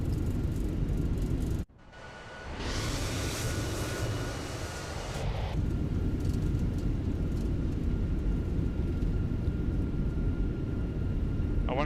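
Thrust reversers roar on a Fenix A321 landing rollout at Frankfurt in MSFS 2024, a loud sustained broadband rush after a sharp cut, swelling and then holding steady before easing toward a lower rumble.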